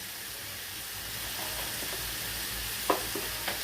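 Ginger garlic paste with chillies sizzling and frying steadily in a hot pan for Dindigul fenugreek rice, with a few soft stirring scrapes near the end.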